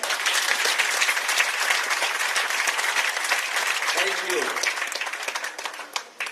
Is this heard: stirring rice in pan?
no